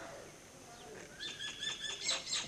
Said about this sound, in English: If I hear the sound of the birds, how do I hear the sound of the birds?